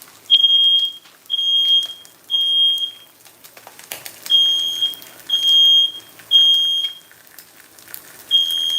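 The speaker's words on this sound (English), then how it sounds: "See, there goes the smoke alarm." A smoke alarm sounds a loud, high-pitched beep repeating in steady pulses about once a second, with a short pause before the pattern resumes.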